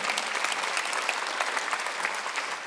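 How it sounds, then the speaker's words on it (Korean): A church congregation at a Sunday worship service gives a round of applause, dense steady clapping from many hands that fills the hall evenly. "박수 한번 하세요."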